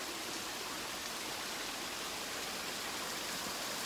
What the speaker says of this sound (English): this waterfall over here